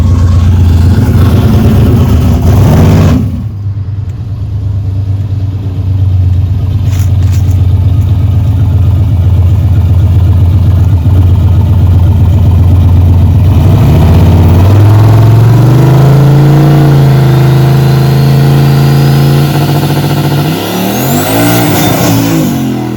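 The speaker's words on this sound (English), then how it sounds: "I think we'll back her up here and do a little trans brake hit." A turbocharged LS-powered S10 drag truck sits at a loud idle, then revs hard against the trans brake with a rising roar that holds, drops away and climbs again, all up close with no talk.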